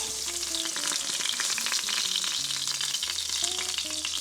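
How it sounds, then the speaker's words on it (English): Meat fries in a pot with a strong, steady sizzle and occasional stirring scrapes, while soft background music plays beneath it. "So we put the meat into the pot"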